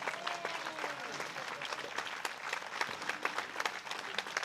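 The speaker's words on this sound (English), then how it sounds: "So give them another big applause." An outdoor audience claps for honorees at a Memorial Day service, a steady, moderately distant wash of applause with scattered sharper claps and a faint voice underneath.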